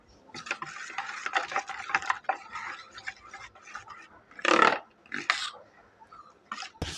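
Chopped vegetables get stirred into a thick batter for gola ruti. Wet, squelchy mixing strokes come in irregular bursts, with one louder slosh midway and light spoon clinks against the bowl, close up and with no voices.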